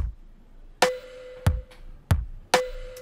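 Snare drum hits layered with a sampled cowbell played from a software sampler, four sharp percussive strikes in a loose rhythm, the cowbell's ringing metallic tone sustaining between hits.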